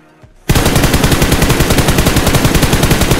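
Rapid automatic gunfire from a red dot-sighted gun in PUBG Mobile bursts in after a brief quiet moment and continues as a loud, steady stream of shots.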